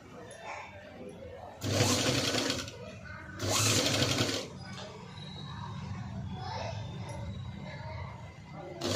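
A sewing machine stitches lace around the neckline of a simple patchwork blouse in two short, loud bursts of rapid whirring, with quieter room noise between and after them.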